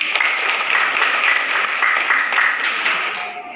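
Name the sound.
classroom applause for presenters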